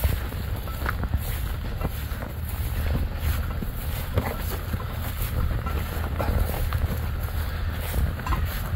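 Dry wind blows across a rice field during the harvest under hot sun, producing a steady rushing buffet of wind noise against the microphone that continues throughout, with no speech.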